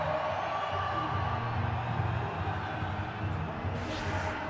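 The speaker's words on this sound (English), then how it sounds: "The cheering continues." Cricket match crowd cheering steadily, a broad continuous roar of a large stadium audience at a boundary, sustained at even loudness with a brief brighter burst near the end.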